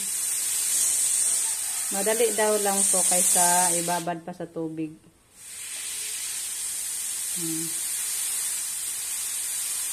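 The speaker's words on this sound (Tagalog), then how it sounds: "Ayan, palabasin yung singaw. Hindi biglain." Steam hisses steadily and loudly from a pressure cooker, briefly cut off, then resumes; a person speaks over the hiss.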